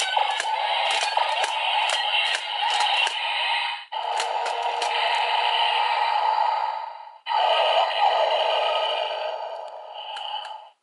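A bright electronic chime effect from a toy plays in three sustained bursts, buzzy and shimmering, with short gaps between them.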